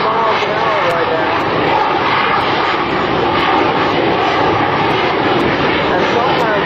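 A Boeing F/A-18F Super Hornet flies slowly past at around 100 mph during an air show demo, a loud steady jet roar filling the whole stretch with faint crowd noise underneath.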